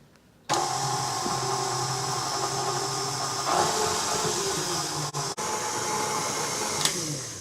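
An electric mixer beats butter and granulated sugar in a bowl for banana nut bread, a steady, loud motor whir with beater hum starting after a moment of quiet, holding even with a brief dip near the end.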